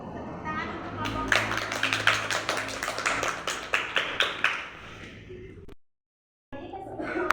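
Clapping from a classroom of students for a group that has just presented, a dense run of many hands striking for about four and a half seconds, then tapering, a brief silence, and faint room noise returning.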